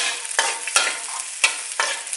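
Loud, continuous sizzling of pork frying in hot oil in a pan, broken by several sharp stirring scrapes and bursts, with no voices.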